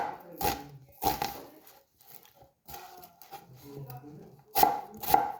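Red onion being chopped with a knife on a board, a few sharp, close cuts in quick bursts separated by quieter pauses, with no talking.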